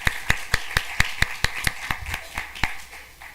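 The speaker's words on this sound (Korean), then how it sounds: "우리 부활하신 예수님께 영광의 박수 올려드리겠습니다." A church congregation claps together at an Easter service, roughly a dozen sharp, evenly spaced claps in a steady unison rhythm, fairly close and clear with no talking over it.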